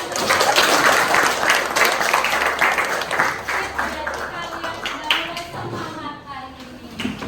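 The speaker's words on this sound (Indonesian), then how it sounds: "Tepuk tangan." Students in a classroom clap together, a loud, dense burst of applause that gradually thins and fades, with voices and chatter mixed in.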